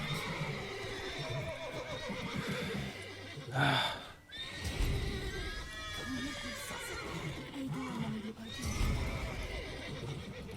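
Horses whinny and neigh loudly several times in The Witcher 3: Wild Hunt over a busy background of clatter and game noise, with a brief spoken word.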